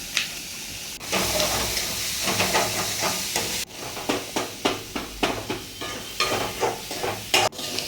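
Onion, tomato and drumstick sautéing in a pan, a steady sizzle broken by rhythmic scraping stirs and clanks, close and fairly loud.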